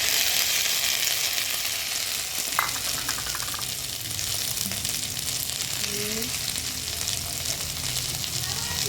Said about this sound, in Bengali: ভালো করে কষিয়ে নেব ভালো করে কষিয়ে নিচ্ছি